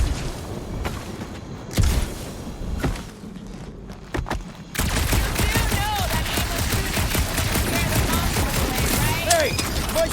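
Rapid bursts of gunfire in the Marvel's Guardians of the Galaxy action game, set in a dark area, building after a few sparse shots into a dense, continuous barrage with game music and voices mixed in.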